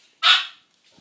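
One sharp, close bark from a dog, either a two-year-old Gordon setter or a Basset puppy, followed by near silence and a faint soft sound at the end.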